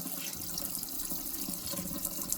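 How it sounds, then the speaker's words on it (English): Tap water runs steadily into a cooking pot at a kitchen sink, a continuous close splashing wash that fills the whole stretch without speech. "Now I'm going to put water in this pot and get it going on the stove."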